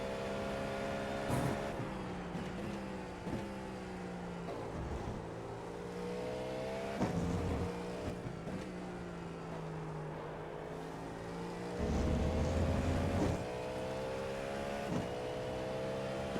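A Cadillac V-Series GTP prototype engine drones steadily in iRacing at Sebring. Its harmonics rise and fall through upshifts and downshifts, with occasional brief blips of throttle. The sound stays moderate and continuous, with no voices.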